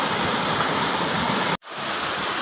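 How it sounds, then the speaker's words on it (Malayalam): A river swollen after rain rushes past in a steady, loud, close roar of fast-flowing water, broken by one very brief dropout, with no voices. "വെള്ളം നോക്ക് കുതിച്ചു ഒഴുകുന്നുണ്ട്"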